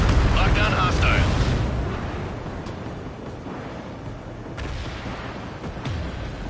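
A missile launches in the combat flight game Ace Combat 7 with a deep, loud rumbling roar that swells at first and then fades. Radio voices talk over the opening.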